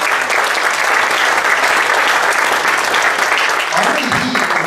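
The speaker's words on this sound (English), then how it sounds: "how about another round of applause for Steve?" An audience at a solar eclipse event breaks into loud, sustained applause for a speaker named Steve, dense clapping throughout with a voice briefly speaking over it near the end.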